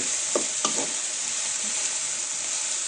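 Chicken sizzles in spiced oil with a constant bright hiss, broken early by two or three sharp utensil knocks and stirs.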